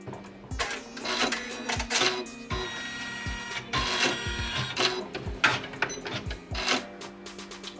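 A Janome 550E embroidery machine sews a column stitch, its rapid rhythmic needle chatter running close and busy in uneven bursts, with mechanical clacks and faint background music.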